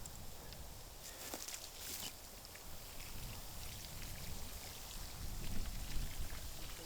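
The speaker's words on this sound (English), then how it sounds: "So let's do the watering itself." Water patters and splashes onto soil over freshly sown butternut and mallow seeds, a continuous rain-like pour with brief louder bursts, close and fairly quiet, no voices.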